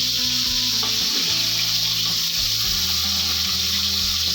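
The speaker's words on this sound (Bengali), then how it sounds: "মাছগুলো মনে হয় একবার ভাজা মোটামুটি হয়ে গেছে আমি উল্টে দিয়ে আরেকবার ভেজে নিচ্ছি" Fish pieces, just turned over for a second frying, sizzle steadily in hot oil, a loud continuous crackling hiss that fills the whole stretch with background music underneath.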